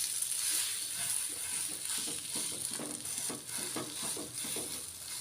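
A bread omelette frying in a pan on a home stove, a soft steady sizzle with faint scraping and stirring clicks, fairly quiet and without talk.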